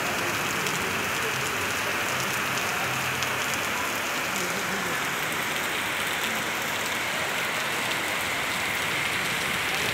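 Heavy rain pours onto a waterlogged road in Pindwara, a dense, constant hiss of drops beating the surface from start to end, with faint voices buried beneath it.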